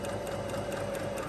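A sewing machine runs steadily while stitching a round neckline on a simple shirt or kameez, giving a continuous close whir with no pauses or talk.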